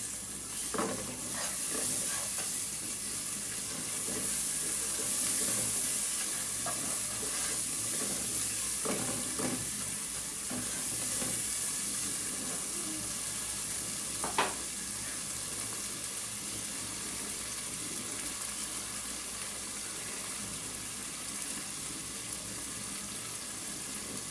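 Ginger-garlic paste fries in a pan for a bottle gourd and prawn curry, with a continuous, moderately loud sizzle and occasional stirring scrapes near the start and middle, and no talking.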